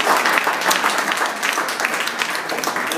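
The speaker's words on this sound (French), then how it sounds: "au niveau du conseil Rose Morène Alphonse, que je vais vous demander d'applaudir" A crowd applauds steadily, dense clapping filling the space with no pauses, moderately loud and fairly close.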